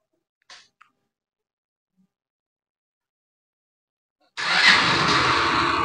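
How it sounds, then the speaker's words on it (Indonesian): A motorcycle engine, its battery just recharged without a charger, starts abruptly after a quiet stretch with a couple of faint clicks, then runs at a loud, steady idle close by. "akhirnya motor bisa hidup juga ya"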